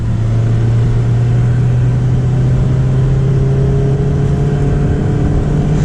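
A Mazda Miata ND with a 2.0 engine and stick shift accelerates in one long, loud, close pull, its engine note rising steadily without any audible gear change.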